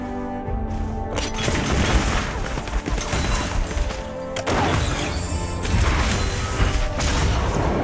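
Bursts of gunfire from a champion's gun in the mobile game Wild Rift ring out in loud, rapid volleys amid crashes and booming game effects, with a voice briefly heard.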